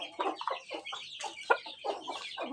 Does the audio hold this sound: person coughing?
no